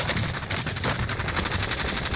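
Sustained automatic machine gun fire from the video game Call of Duty: Warzone, a dense, loud, rapid stream of shots lasting about two seconds without a break.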